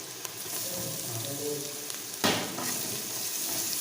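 Ginger garlic paste sizzling and frying steadily in a hot pan for a vegetable biryani, a continuous close crackle with a brief louder burst of spatter as it is stirred.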